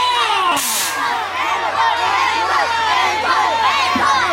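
Concert crowd at an outdoor university festival stage, cheering and shouting with whoops and high-pitched yells, dense and loud throughout with no clear applause rhythm.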